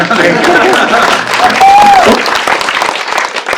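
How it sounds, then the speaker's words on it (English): Audience applause at a Frankenstein exhibit event with Guillermo del Toro, a loud, dense wash of clapping from a gathered crowd, with a voice briefly rising above it. "I'm going to applaud that."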